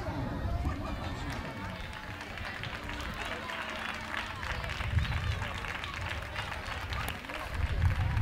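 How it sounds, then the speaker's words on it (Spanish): Applause at a youth seven-a-side football trophy ceremony, fairly faint scattered clapping from a gathered crowd mixed with background chatter and hubbub, continuing for several seconds. "¡Fuerte aplauso!"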